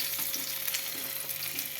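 Fish frying in a pan, a steady close hiss of hot oil crackling continuously through the short stretch with small bubbling pops and no voices.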